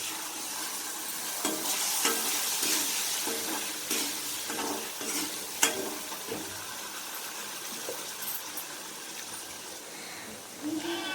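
Quail curry being stirred in a pan, a steady sizzle with repeated scraping strokes of a spoon for several seconds, no voices.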